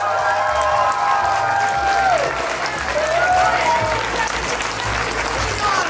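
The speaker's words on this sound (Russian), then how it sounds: "Еще раз искупайте их аплодисментами" An audience at a youth theater cheers and applauds child dancers after their performance, sustained dense clapping with scattered cheers and a few sliding tones from voices, loud and continuous.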